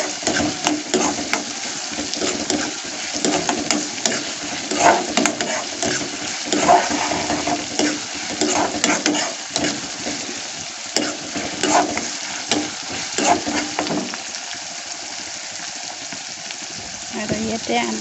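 Onions for a paneer dish fry and are stirred in a pan, giving a close, continuous sizzle broken by scraping stirs and occasional louder spits.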